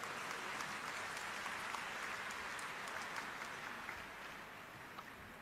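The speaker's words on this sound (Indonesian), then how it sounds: "Tepuk tangan untuk hal ini." A church congregation applauds during an archdiocese anniversary mass, steady sustained clapping from many hands filling the space, fairly distant and even, tapering slightly toward the end.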